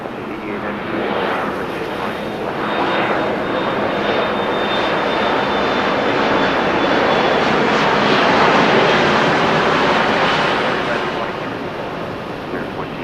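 A Delta airliner takes off from runway 6 right at LAX, a loud, broad jet engine roar that swells and holds for several seconds before easing slightly, heard close and steady.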